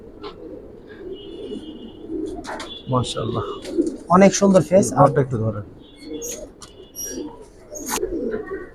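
Silver Giribaz pigeons in a loft coo in low, rolling bursts at the start and end. Someone talks loudly over the birds in the middle.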